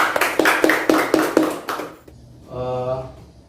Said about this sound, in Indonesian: Tepuk tangan untuk hari ini